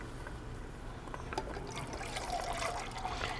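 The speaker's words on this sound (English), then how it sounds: "And then she would clean out the cans with a little bit of water." Water trickles and pours into an empty tomato can to rinse it, a steady close liquid splashing and gurgling over a constant low background hum.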